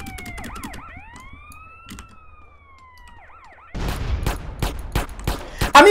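Rapid bursts of gunfire from the video game GTA San Andreas erupt in the second half, sharp repeated shots following a stretch of wailing police siren from the game.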